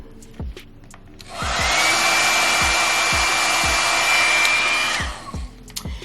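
A hot air blow dryer brush roars on for about four seconds while drying a kinky straight U-part wig, with soft clicks and handling sounds close by before and after.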